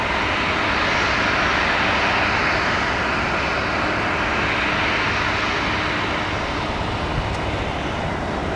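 A Southwest jet airliner landing at the airport roars as a loud, continuous broadband engine rush that holds steady throughout, near and dominant with no voices.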